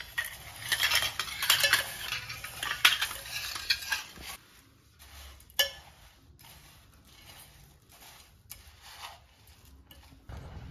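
A spoon stirs a snack mixture of tomato and boondi in a bowl, with quiet scraping and clinking strokes, denser at first and then sparser with soft taps in between.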